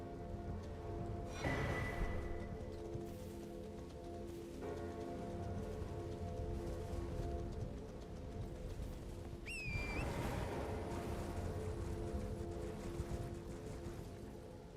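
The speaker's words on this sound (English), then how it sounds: "God, this rain." Steady rain falling on a surface, a continuous close patter with a few brief mechanical clanks and squeaks mixed in, no talk.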